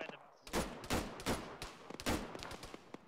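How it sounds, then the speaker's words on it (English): Repeated gunfire from an Arma 3 firefight, a string of sharp shots at irregular intervals, some close and loud, others in quick pairs, with faint background noise between bursts. "How are they shooting over the wall?"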